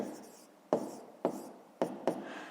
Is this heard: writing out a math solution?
yes